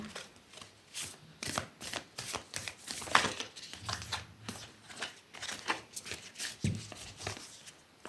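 A deck of tarot cards being shuffled, with rapid papery riffles and flicks repeating in quick bursts, close and fairly quiet, with no talking.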